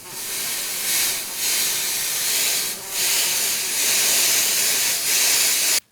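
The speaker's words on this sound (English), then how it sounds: "What do you think bug spray's for?" Bug spray hisses loudly and close in a few long, steady bursts with brief pauses between them, ending abruptly.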